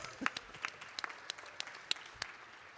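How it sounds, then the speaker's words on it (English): A conference audience at a closing plenary session gives a short round of applause, a thin, fairly quiet patter of scattered individual claps that trails off. "But we just want to give her a round of applause in absentia"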